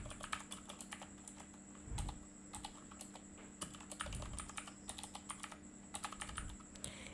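Quiet, close typing on a computer keyboard: a steady run of light, irregular key clicks with a few heavier thumps, alone with no talk.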